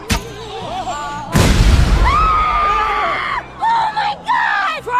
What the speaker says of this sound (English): There's a bomb in the cake.